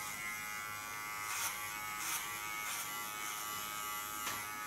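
An electric hair clipper cutting hair: a steady, quiet, high-pitched buzz held close throughout, with faint brief swells as the blade moves, and no voices.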